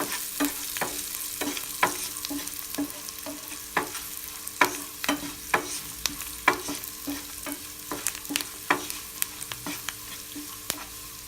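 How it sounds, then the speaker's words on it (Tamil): Roasted peanuts are stirred into lemon rice in a pan with a close, rhythmic series of spatula scrapes and clinks over a low, steady sizzle, no voices. "வேர்க்கடலை வறுத்து வச்சதை எடுத்து போட்டுட்டு மிக்ஸ் பண்ணி விட்டுருங்க"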